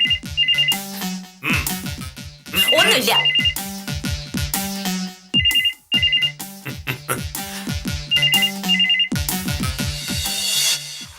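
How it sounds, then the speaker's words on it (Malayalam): Telephone ringing loudly in a repeating electronic ringtone pattern, bursts of tones with short gaps, while a few spoken words are heard partway through. "പോയാ ഫോൺ എടുക്ക."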